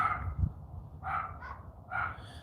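A dog gives a few short barks and yips spread over a couple of seconds, moderately close, with a quiet room hum between them and no talk.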